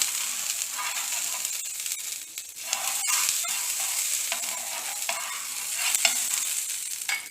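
Butter sizzles on a hot tawa griddle over medium flame while a layered paratha cooks, a steady close frying hiss with occasional scraping touches and no voices.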